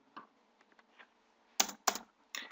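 Keys clack on a computer keyboard while code is typed, a few faint taps followed by three louder, close bursts of keystrokes, with no talking.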